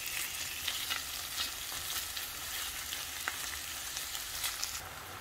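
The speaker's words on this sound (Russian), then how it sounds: "К обжаренному луку отправляю фарш. Все перемешиваю и готовлю практически до полной готовности фарша." Minced meat frying with fried onions in a pan for a potato bake, a soft steady sizzle with scattered scraping stirs, close but quiet, without talk.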